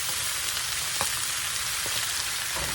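Sausage, bacon bites, onions and peppers frying in a skillet for cabbage, a steady close sizzle with a few soft scrapes as the food is tossed around.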